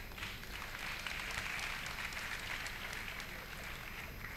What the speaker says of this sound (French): J'aimerais un banc d'applaudissements pour Serge Fato et Lingan.